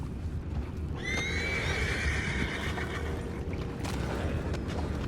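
A horse whinnies in Red Dead Redemption II, a long, high, wavering neigh that rises after a second and trails off over a steady low rumble of background ambience, with no talking.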